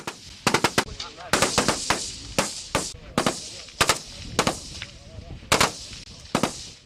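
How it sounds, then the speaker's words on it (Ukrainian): Students firing automatic rifles at targets on a shooting range, many sharp loud gunshots in single shots and short bursts, echoing with irregular spacing over faint background voices. "Після детального інструктажу учні, звичайно ж, під наглядом вчителів приступили до стрільби."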